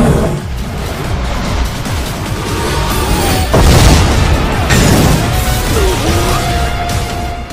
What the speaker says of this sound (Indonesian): terjadilah ledakan yang sangat hebat di tempat tersebut